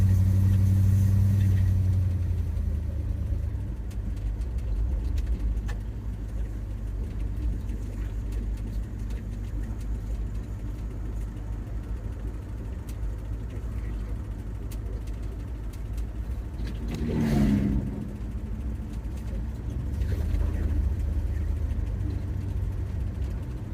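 A 1976 Ford F-150 Ranger engine runs steadily with a low throbbing drone, a brief rev swelling near the end, heard close in a truck out on a hill.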